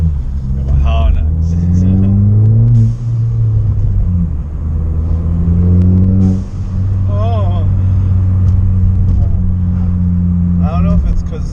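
A Ford Fiesta ST engine rumbles and rises in pitch as it revs while driving, with people talking over it and a brief exclamation.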